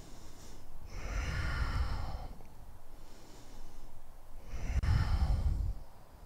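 Slow, deep breaths during a yoga pose in a vinyasa flow, two long audible exhales through the nose, close and steady with no talk.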